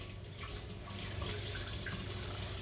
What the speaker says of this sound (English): And I'm adding water.